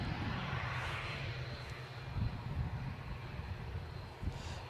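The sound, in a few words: EasyJet Airbus A320 inbound to Edinburgh airport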